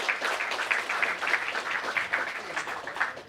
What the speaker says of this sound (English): Yes, definitely worth clapping.